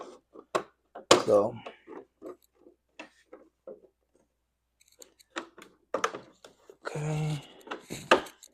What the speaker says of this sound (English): So it kind of just snaps in place with the other one with the same tap.